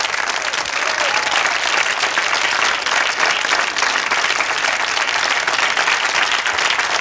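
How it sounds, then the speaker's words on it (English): A studio audience at a televised comedy show breaks into sustained, dense applause, loud and continuous for several seconds without any speech over it. "So, a big round of applause for Marv."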